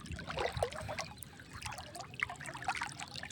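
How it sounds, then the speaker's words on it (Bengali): A river current flows past the bank as a faint, close trickling and gurgling of water, irregular and quiet throughout. "তামাম স্রোত, নদীর স্রোত"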